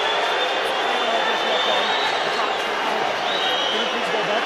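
A rugby crowd at an Ospreys v Ulster match roars in sustained, dense displeasure after a referee's decision, a broad continuous wash of voices from a large stadium audience, with a commentator talking over it.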